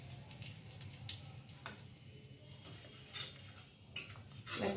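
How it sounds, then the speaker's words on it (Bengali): A utensil stirs methi malai chicken in a pan with kasuri methi, making faint scattered clinks and scrapes over a soft low sizzle, sparse taps growing slightly louder toward the end, with no talking. "একবার নেড়ে নিচ্ছি"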